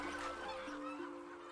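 A lion-head goose in Raoping honks in a couple of nasal, sustained calls, quiet and somewhat distant over soft background noise.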